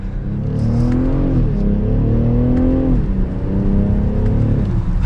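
2023 BMW X6 xDrive40i SUV accelerating hard, its engine note rising steadily through two gear changes with a loud, close, continuous roar from inside the cabin.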